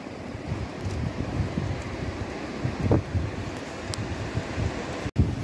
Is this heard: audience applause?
no